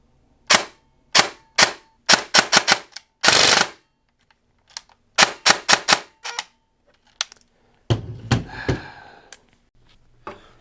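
An M4 AEG airsoft rifle fires on semi-auto, about ten sharp, close snapping shots in uneven bursts with short pauses, followed by a few softer mechanical clicks and rustles.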